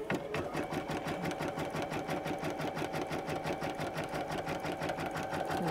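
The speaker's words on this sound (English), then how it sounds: "it's going to stitch across and attach that" An embroidery sewing machine stitches across crazy-quilt fabric with a fast, even mechanical rattle, close and continuous with no talk.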